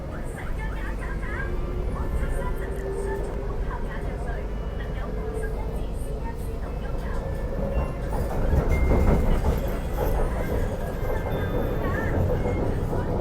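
A Hong Kong MTR Kwun Tong Line train rides between stations with a continuous loud rumble and rattle from the carriage, swelling briefly partway through, while some talk is heard over it.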